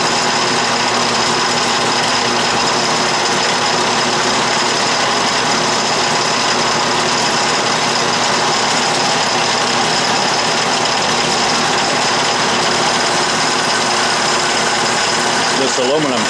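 An Atlas lathe taper turning aluminum at a shallow 2-degree taper, a steady loud mechanical whir with tonal hum and noisy machine rattle running continuously throughout, with a voice talking over it.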